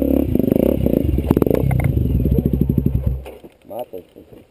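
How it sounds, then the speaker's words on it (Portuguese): An off-road motorcycle engine starts and revs with rough, rising bursts in a wooded off-road setting, loud and close, with people talking over it before the engine note fades. "Liga a moto."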